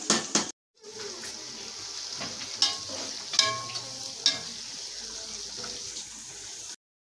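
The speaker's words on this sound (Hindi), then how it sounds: "चने हमारे मैं भून रही हूँ, चने को भून रही हूँ।" Chickpeas roasting in a pan are stirred with a quiet dry rustle and faint sizzle, broken by a few sharp clinks of the utensil against the pan, before cutting to silence.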